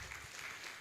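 Audience at a health sector joint annual review meeting in Rivers State clapping together, a steady, fairly faint wash of applause lasting under a second with no talk over it.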